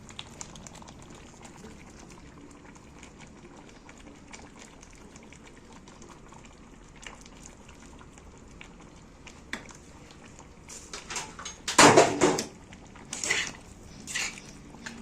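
Chicken broth pours into a pot of zucchini and is stirred, bubbling and sloshing in a loud burst after a long stretch of quiet sizzling and clinking, then a few shorter splashes.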